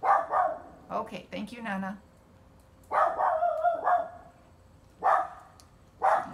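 A pet dog barks at a neighbor's dog in short bursts, several sharp barks and yips spaced apart, mixed with a person talking nearby.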